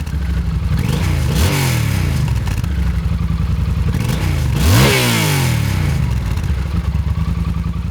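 A Yamaha Super Tenere motorcycle with shaft drive revs up twice in quick surges over a loud, rough, clattering idle, close by and with no voices.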